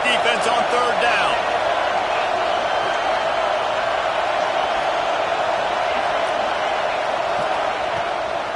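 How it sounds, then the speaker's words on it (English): A loud football stadium crowd roars steadily behind the defense on third down at a Georgia versus NC State game, a dense, sustained wall of cheering and whooping that holds throughout. "Decibels rising as the crowd gets behind this defense on third down."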